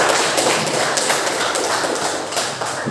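A class applauds during a school lesson on preparing for a job fair, a dense, even patter of many hands clapping at steady volume throughout.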